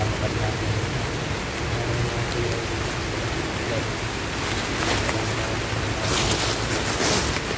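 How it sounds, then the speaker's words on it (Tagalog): Rain falling on a mountain trail, a dense continuous hiss with bursts of heavier patter, faint voices beneath. "Umuulan."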